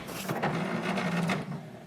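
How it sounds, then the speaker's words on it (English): An HP DeskJet 2734e inkjet printer powers on and runs its startup cycle: a close, steady mechanical whirring and buzzing with carriage movement for over a second, then easing off near the end. "Wait for the printer to start."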